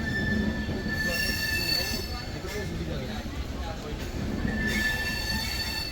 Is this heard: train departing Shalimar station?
yes